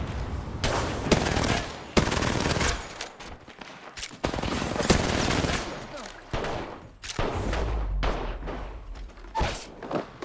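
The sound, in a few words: gunfire in a video game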